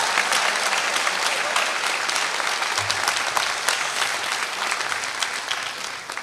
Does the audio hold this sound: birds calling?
no